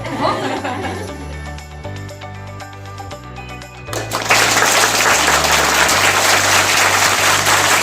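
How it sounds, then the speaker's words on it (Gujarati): Audience of school and B.Ed. college students clapping at a visit, first in a measured rhythm of soft pulsing claps, then bursting into loud sustained applause, with some voices mixed in. "જેટલો આગો જાય ને એટલી જોરથી તાળી પાડવાની"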